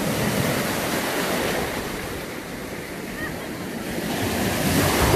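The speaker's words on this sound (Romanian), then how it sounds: "Era să mă iau un val." Sea waves break and wash in steadily on a beach at Sfântu Gheorghe in Romania, where the Danube meets the sea, with wind buffeting the microphone throughout.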